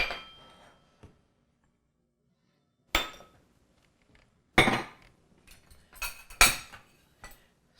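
A utensil stirring dry salt, baking soda and baking powder in a bowl: scattered bright metallic clinks and scrapes in short bursts separated by quiet gaps, close and clear.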